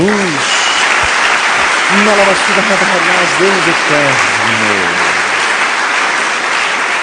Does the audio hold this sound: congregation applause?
yes